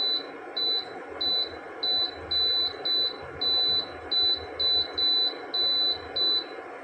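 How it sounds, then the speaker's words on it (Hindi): Anchor Plus electric stove timer beeping, a run of about a dozen short high-pitched electronic beeps in an uneven rhythm, clear and alone in a quiet room. "तो मैं आपको इसका टाइमर दिखा देती हूँ।"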